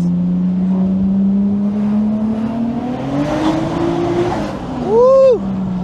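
A slammed Toyota JZX100 Chaser's tuned engine drones loudly from inside, its pitch climbing steadily as it accelerates, then a sharp rev spike near the end, with no talk.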